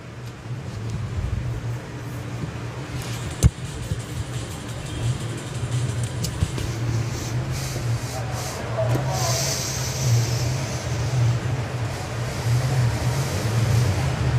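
Street cars race in a BMW chase at an outdoor racing event, a steady mid-pitched engine drone building gradually with a brief sharp knock early on, heard at some distance against broad roadside noise.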